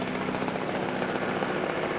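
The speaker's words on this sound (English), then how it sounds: "rented 2 Russian-built Mi-16 helicopters inside Nepal to airlift the vehicle deeper into Nepal's Dopal region" Russian-built Mi-16 helicopters produce a steady, loud rotor and engine drone that holds constant from start to finish without voices.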